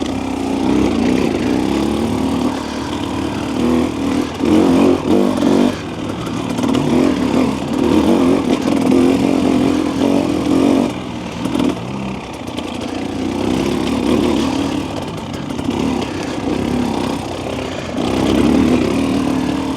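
The engine of a 2025 Husqvarna TE300 dirt bike lugs in third gear at low revs, a loud, continuous rough drone with small throttle swells throughout.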